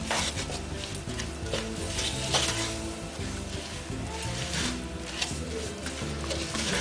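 A spoon stirs tomato paste into a flour-and-butter roux in a pan, a soft continuous scraping and light sizzle heard up close and fairly quiet, with no talking.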